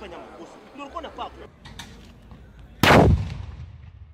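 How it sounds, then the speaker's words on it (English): A gun salute fires at a state minister's burial. Murmuring voices and background noise come first, then one loud, sharp report cracks out and fades in a short echo. "lowered to the ground at around 3:45 p.m. and given a 11-gun salute"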